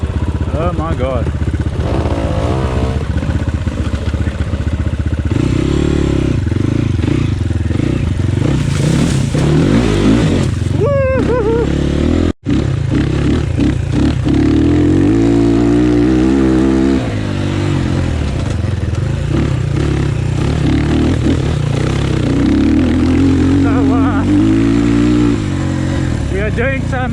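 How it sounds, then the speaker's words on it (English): Loud dirt bike engines rev, drone and rise in pitch as riders work along a trail, running continuously and close, with a voice talking over the noise. "we're making noise with the bikes"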